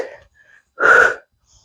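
One forceful, breathy exhalation after a dumbbell workout set, a short gust of air about half a second long, heard close and alone.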